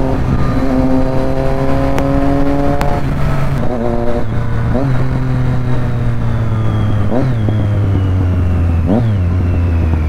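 A Triumph Street Triple motorcycle ridden on a street on an Independence Day ride, its engine droning steadily then shifting through several gears with rising and falling pitch, loud and close throughout.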